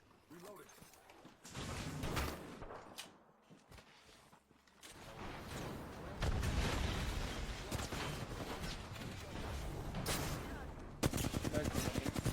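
Shotgun fire in a multiplayer shooter video game, with bursts of gunfire and rapid shots in the second half of the clip, loud and mixed with game noise and voices talking over it.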